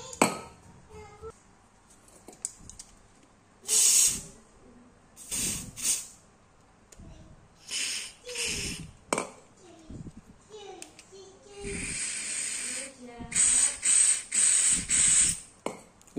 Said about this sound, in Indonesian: Kalau kita semprot dia keluar nggak ya kotorannya?